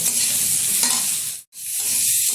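A spice paste of tomato, green chillies, garlic paste and ginger paste sautéed in a pan, a dense hissing sizzle with spatula stirring, close and loud, briefly cutting out to silence midway before resuming.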